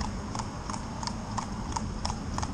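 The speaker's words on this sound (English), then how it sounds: "The horse is going where directed." A riding school mare walks under direction, hooves clip-clopping in a steady even rhythm on a hard surface, clear and moderately close with no talk over it.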